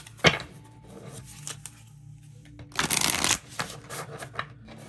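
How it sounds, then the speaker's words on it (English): Tarot cards are shuffled and pulled by hand, with a sharp riffle near the start, lighter card flicks, then a dense burst of shuffling about halfway through and a few softer taps after it, all close and without talk. "Let's pull you another card."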